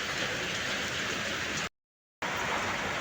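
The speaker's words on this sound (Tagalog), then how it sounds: "Dito po, malakas ang ulan talaga." Heavy rain pours down in a steady, loud, dense hiss that breaks off briefly partway through, then resumes just as strongly.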